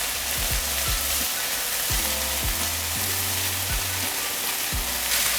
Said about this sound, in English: I'm gonna add in the rice.